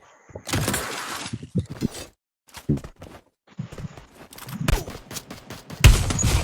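Bursts of video game gunfire crackle in rapid volleys, with sharp shattering hits and gaps of silence between clusters, close and fairly loud throughout.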